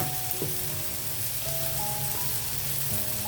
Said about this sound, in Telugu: కొంచెం పసుపు సాల్ట్ వేస్తున్నాను అప్పుడు ఉల్లిపాయలు త్వరగా ఎగుతాయి కదా